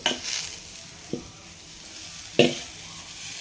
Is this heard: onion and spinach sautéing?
yes